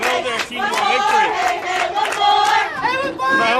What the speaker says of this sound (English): our camera is right next to the Beacons dugout as they scream and chant and cheer